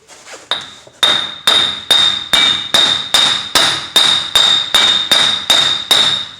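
Hammer blows ring out on a Chevy Silverado's front wheel bearing and axle during replacement, about a dozen sharp metallic strikes at a steady, even rhythm, close and loud with a bright ringing tone.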